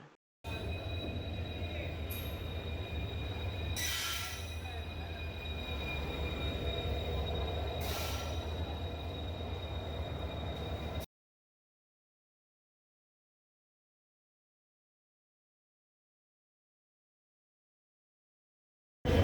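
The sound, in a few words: train noise at a railway station platform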